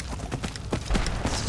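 A horse gallops in Skyrim, with quick rhythmic hoofbeats thudding in an even run under faint game ambience.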